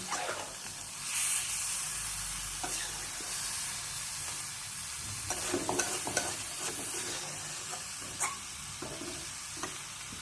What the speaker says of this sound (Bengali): এই জলেতেই ভাজা হবে।